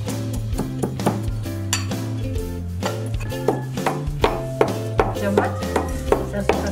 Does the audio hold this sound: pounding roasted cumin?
yes